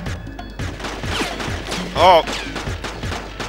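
Rapid bursts of gunfire from The Getaway: Black Monday ring out in quick repeated cracks across the clip, with a brief exclamation from a voice near the middle.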